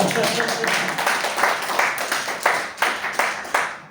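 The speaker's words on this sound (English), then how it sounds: "Huge round of applause for him." Indoor audience at a Toastmasters club meeting claps steadily for several seconds, a dense patter of many hands fading toward the end.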